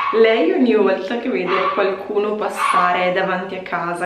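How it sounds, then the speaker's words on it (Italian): A small dog barks repeatedly at people passing by the house, sharp close yips and bow-wows mixed in with someone talking in Italian over them. "se sentite abbaiare"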